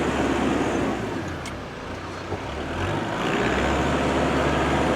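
A 2009 New Holland T4050F orchard and vineyard tractor with a cab and a 95 hp turbo engine runs steadily while shifting into second gear, giving a continuous, fairly loud low rumble that dips slightly midway and then rises again.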